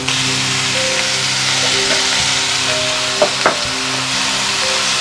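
Tomato and onion frying over medium flame for a chickpea kurma gravy, a loud, steady close-up sizzle with a few stirring scrapes, no talk.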